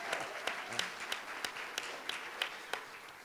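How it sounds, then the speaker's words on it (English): Audience applause at a school board candidate forum, a steady dense patter of many hands with a few louder individual claps standing out in a regular rhythm, fairly even in volume throughout. "I'd like to make sure that we give a big round of applause for someone who was not heralded in this process"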